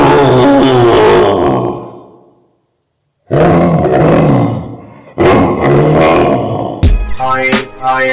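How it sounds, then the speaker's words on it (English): A gorilla gives loud, deep roars and grunting bellows in several close bursts, separated by a brief silence, with no talking. "Hi, I am Gorilla."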